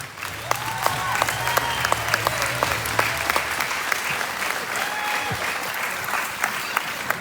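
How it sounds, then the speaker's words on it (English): A crowd at a livestock show gives Bo Sanders a round of applause, steady clapping throughout in an arena, with a voice speaking over it near the start. "let's give Bo Sanders a big round of applause as well"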